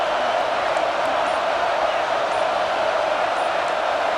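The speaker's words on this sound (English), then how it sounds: "with this crowd, they can't hear anything. This place is going absolutely nuts." Stadium crowd roaring in EA Sports College Football 26 during an Alabama versus Ohio State game, a steady, dense wall of cheering that holds at full volume throughout with no single voice standing out.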